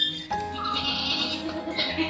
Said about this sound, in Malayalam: അത് ആട് കരഞ്ഞു തന്നെയാണ്